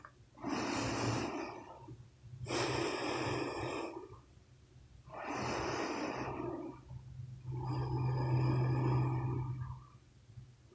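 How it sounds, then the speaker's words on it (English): Four slow, deep breaths during a yoga session, each a long airy inhale or exhale separated by brief pauses, close and quiet, with no talking. "We got 3 deep rounds of breath."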